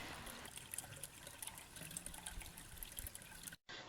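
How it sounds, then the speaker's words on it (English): A garden water feature trickles and tinkles steadily outdoors, a continuous close flow of splashing water with bright droplet sparkle, briefly cutting out near the end. "Just listen to the tinkling sound of the water as it flows."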